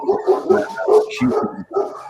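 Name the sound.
dogs barking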